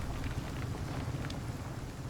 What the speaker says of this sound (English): it's kind of raining